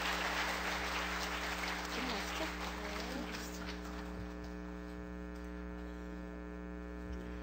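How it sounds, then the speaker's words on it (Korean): An audience at a book launch ceremony for an autobiography applauds, the clapping swelling briefly then fading away beneath a steady electrical mains hum. "힘차게 큰 박수 부탁드립니다"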